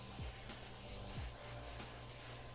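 Spray painting a primer coat onto furniture in a spray tent, a steady, close hiss from the sprayer running continuously with faint mechanical hum beneath it.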